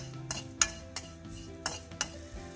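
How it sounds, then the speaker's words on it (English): Sesame seeds being sauteed and stirred in a pan, with sharp metallic clinks of a spoon against the pan in a loose rhythm over a faint frying sizzle, close by. "Now let's add sesame seeds, and this also we need to saute till it changes its color a little bit."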